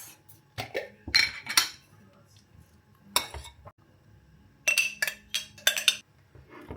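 A spoon stirs garlic sauce of yogurt, mayonnaise, salt and crushed garlic in a bowl, making close clinks and scrapes in short irregular bursts separated by quiet gaps.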